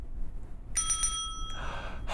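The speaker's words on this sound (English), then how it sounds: "that bell means that it's the end of the first part of the video" A single bicycle-style bell rings with a clear, bright repeated strike, standing out after a quiet moment and fading with a faint ringing tail.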